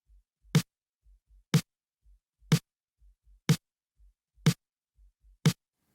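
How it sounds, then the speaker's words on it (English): Sampled snare drum hits in a mix, six sharp cracks evenly spaced about one second apart, each with a short bright decay, over soft low kick-like thumps between them. "And then they've got a snare sample as well, so that sounds like this."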